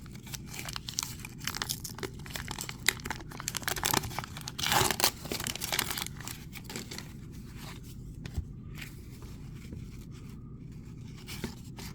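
A 1990 Donruss baseball card pack is torn open by hand, giving continuous crinkling and ripping wrapper noise, close and busy, most intense in the middle before settling into softer rustling.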